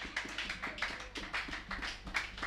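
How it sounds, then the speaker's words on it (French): Congregation at a French-language church service clapping loudly in a steady rhythm, a run of sharp, evenly spaced claps close by, with no talking over it. "Acclamons très fort pour la gloire de Jésus."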